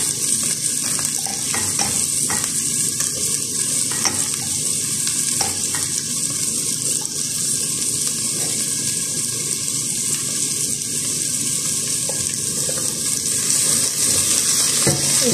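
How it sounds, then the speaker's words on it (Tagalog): Ginger sautéing in a pot for arroz caldo, giving a dense, steady sizzle with faint stirring clicks, close and unbroken throughout with nobody speaking. "Isaute lang natin yan hanggang light yung ating ingredients."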